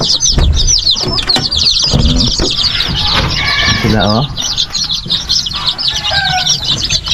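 Young chicken chicks on a farm peep and cluck in a busy chorus, with bursts of wing flapping close by, while a person talks over them.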